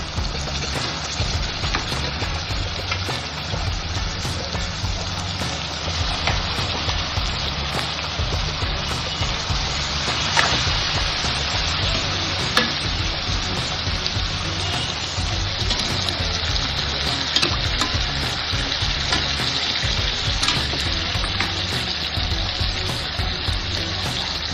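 Boneless mutton pieces frying in a pan give a continuous, even hiss of sizzling oil, steady and close throughout, with occasional small pops.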